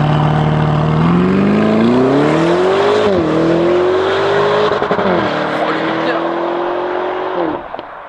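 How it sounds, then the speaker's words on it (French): A Lamborghini Urus S engine is held against its rev limiter, a loud, close, sustained roar whose pitch climbs, wavers and bounces before cutting off at the end. "Oh le rupteur magnifique"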